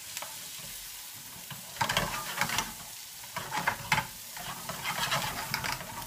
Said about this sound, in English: we're going to throw our mushrooms and get them bad boys into there